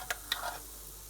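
Black peppercorns and green cardamom saute in an Instant Pot, two sharp ticks of spices landing followed by a faint, brief sizzle.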